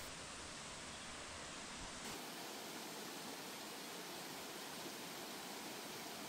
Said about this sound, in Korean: 두 번째 징검다리를 건너 길을 따라 올라가자 단풍나무 사이로 긴 폭포가 나타났습니다.